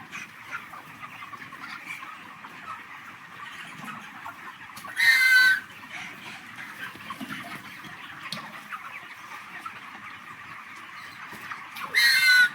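Broiler chickens clucking inside a poultry farm, a constant low murmur of many birds with two short louder bursts of clucking, no talk.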